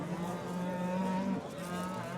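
At a Fergana cattle market, a cow lets out a sustained low moo that swells and then breaks off, with more lowing and background bustle from the surrounding livestock bazaar.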